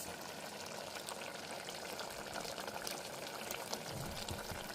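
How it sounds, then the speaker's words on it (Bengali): Mutton curry sizzling and frying in a pot in a home kitchen at night, a steady dense crackle and hiss close by, running continuously without speech. "এত রাত্রিবেলা মাটন রান্না হচ্ছে।"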